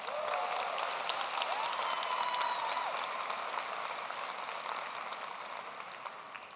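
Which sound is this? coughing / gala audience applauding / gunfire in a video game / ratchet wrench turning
gala audience applauding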